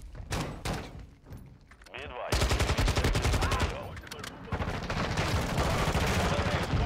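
Rapid assault rifle fire in the Modern Warfare 2 beta, sparse shots at first, then dense, loud sustained bursts filling the last four seconds, with voices talking over parts of it.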